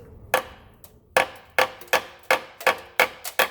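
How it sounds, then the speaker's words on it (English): Sharp hammer blows striking plastic under a 2012 Dodge Grand Caravan near the oil pan, about eight hits in quick irregular succession, close and loud with brief ringing decay between strikes. "Let's hammer this."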